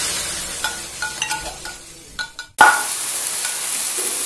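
Tuna goes into garlic and onion sautéing in oil for baked macaroni: a few soft clinks and scrapes, then a sudden loud burst of sizzling that keeps hissing steadily.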